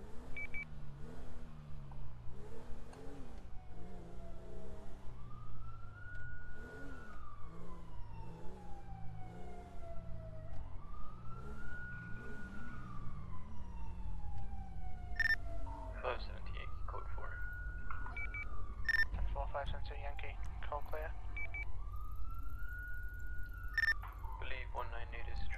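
A police car siren in the video game GTA 5 wails in long rising and falling sweeps, joined later by a low engine drone and sharp radio-like blips, with quiet talk underneath.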